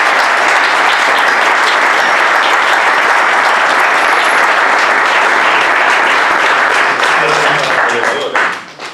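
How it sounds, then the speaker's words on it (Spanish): Loud, dense applause from a lecture audience at a talk on electricity and the energy transition, sustained without a break for about eight seconds before tapering off at the end. "Yo os pediría un aplauso para ambos."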